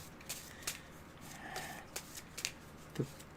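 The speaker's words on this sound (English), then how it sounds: "Let me just do a quick shuffle for this encounter deck." A quick shuffle of a deck of game cards for a Marvel Champions tabletop session, with soft riffling bursts and crisp card flicks spaced irregularly at close range, no talking.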